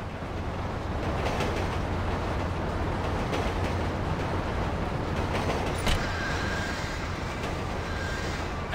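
A train rumbles past continuously in GTA 5, a steady broad low roar with rattling, and a brief metallic clank near the end.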